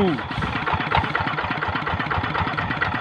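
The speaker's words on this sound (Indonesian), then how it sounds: "ini speknya traktor yang digunakan Pak Samsul yaitu Kubota G1000" A Kubota G1000 tractor engine runs in a rice paddy field with a steady, rapid chugging rhythm, fairly close and continuous, while someone speaks over it.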